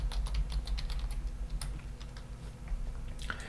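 Fingers tap out a password on a computer keyboard, a quick run of close, crisp key clicks followed by a few scattered strokes over a low background hum.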